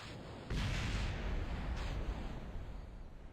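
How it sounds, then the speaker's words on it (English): Explosions in a radio drama: a sudden heavy boom bursts in and rolls on as a rumbling blast, followed by a second sharper crack, loud and reverberant with no voices. "Nice explosions."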